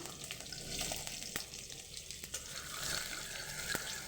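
Green chillies and nigella seeds hit hot oil with a brief, fairly quiet crackling sizzle, with a few sharp pops over a few seconds.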